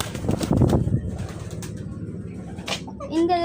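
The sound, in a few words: pigeons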